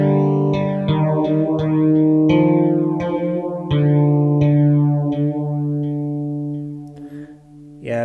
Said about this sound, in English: the second one is a clean guitar soft, and it sounds like this.